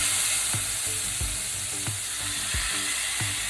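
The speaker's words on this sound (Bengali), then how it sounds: "এই পদ্ধতিতে আমি বাকি কাঠিগুলো ভেজে নিব" Oil-brushed meat kebab skewers for a hotel-style Bihari kabab sizzle and fry in a frying pan, a steady loud crackle punctuated by repeated soft taps and scrapes as the skewers are moved.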